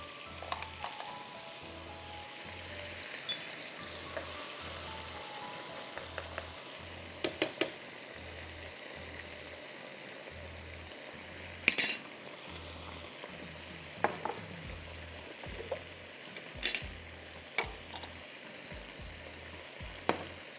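Onions fry and sizzle steadily in a pan while a utensil stirs them, with frequent light scraping clinks over the continuous hiss, close and alone without talk.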